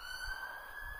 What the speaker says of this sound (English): sirens have been going off in the background